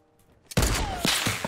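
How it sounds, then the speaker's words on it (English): A single sharp gunshot in the Fortnite battle royale video game, a loud sudden crack followed by a few quick thumping follow-up shots. "I did not mean to shoot that."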